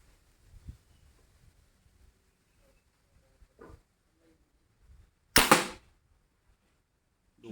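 A fish-shooting crossbow with a red pradu wood stock and two rubber bands fires at a water bottle target, a single loud, sharp snap-thwack that rises abruptly from near silence after a few faint handling clicks.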